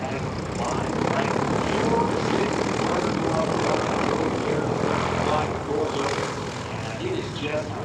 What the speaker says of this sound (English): she is the pilot inside the Piper Super Cub right now.